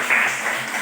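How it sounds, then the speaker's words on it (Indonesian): Classroom applause for a classmate, a short burst of many hands clapping together at close range, brief and fairly loud, with no talk. "Berikan aplaus untuk teman kita."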